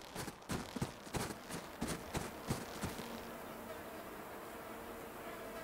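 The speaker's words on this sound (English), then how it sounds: "Those are bees, and it looks like it has an eyeball." Bees buzz in the KAKU: Ancient Seal game as a steady drone, with a series of rapid rhythmic thumps early on that give way to the even hum.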